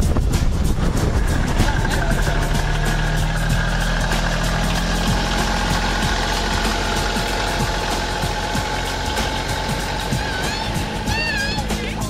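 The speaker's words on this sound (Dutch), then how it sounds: "Een grote stoet auto's." A long line of cars crawling in summer beach traffic through the dunes near Wassenaar, engines idling and passing up close in a loud continuous rumble, with occasional higher whines near the end.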